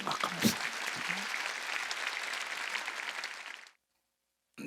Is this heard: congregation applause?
yes